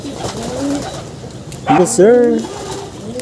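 Racing pigeons coo inside a family loft, soft rolling calls close by, rising into a louder burst of cooing midway, while someone speaks briefly.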